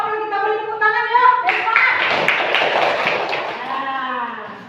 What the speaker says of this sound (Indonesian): Kita aplaus kelompok apel, kita beri tepuk tangan yuk.